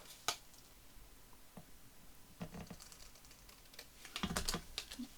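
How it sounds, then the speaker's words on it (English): Scissors snip a photo out of paper in short, irregular cuts, crisp close snips separated by pauses, with light paper rustling between them. "I'm just trimming it out to have a look"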